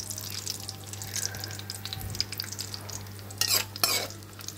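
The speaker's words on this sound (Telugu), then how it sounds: "అలాగే కిస్మిస్ని కూడా వేసేసుకుని 2 నిమిషాలు వేయించుకుందాం." Raisins fry briefly in a pan, with soft sizzling under light spoon stirring and scraping. A low steady hum runs beneath, and a louder burst of stirring comes near the end.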